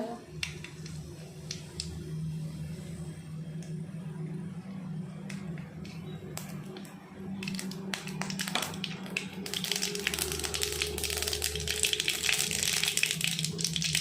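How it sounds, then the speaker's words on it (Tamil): Mustard seeds splutter and pop in hot oil while tempering for a tomato thokku. Scattered sharp crackles come over a low sizzle, and they grow denser and louder in the second half. "கடுகு இப்படி பொரிஞ்சு வந்ததும் கருவேப்பிலை போட்டுக்கோங்க"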